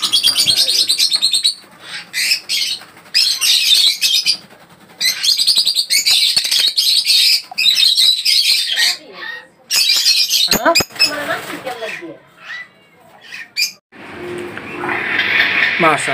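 Cockatiels and other caged birds squawk and chirp almost nonstop at the Tongi bird market, loud and close, with a shrill, dense chorus and brief lulls.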